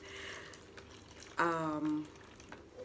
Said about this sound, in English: So to begin, I'm going to put some warm water.